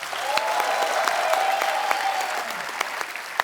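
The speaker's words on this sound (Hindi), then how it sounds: "चंदन के लिए जोरदार तालियां।" The studio audience of The Kapil Sharma Show bursts into applause, a steady wash of clapping with sharp individual claps standing out. A faint whistle-like tone runs through the middle, and no one speaks.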